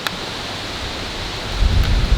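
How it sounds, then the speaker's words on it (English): Steady rumbling wind buffets a microphone, a constant roar of noise that thickens into heavier low gusts near the end. "Sorry about the wind"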